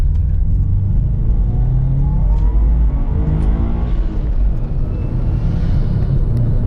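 A 2008 Subaru Impreza WRX pulls away in a busy parking lot, its engine note rising steadily in pitch under a heavy low rumble, loud and close, with no talk.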